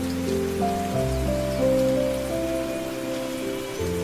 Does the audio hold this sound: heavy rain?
yes